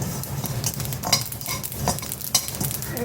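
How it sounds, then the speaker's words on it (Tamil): Sesame seeds roast in a dry pan while a spoon stirs and scrapes them, close rhythmic scraping strokes with light crackling between, no voices. "எள்ளு சீக்கிரம் வறுத்துடலாம் சீக்கிரம் பொறிஞ்சிடும்"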